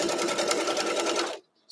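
Sewing machine stitching a quilt block, a steady loud mechanical whir of rapid needle strokes running continuously, then stopping abruptly near the end.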